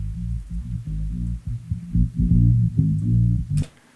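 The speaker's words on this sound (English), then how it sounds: "So we just have a bass stem, it sounds like this." An isolated bass stem pulled out of a mix by a stem splitter, playing a throbbing low-pitched line of short pulsing notes, fairly loud and slightly gritty, before cutting off abruptly near the end with no talk.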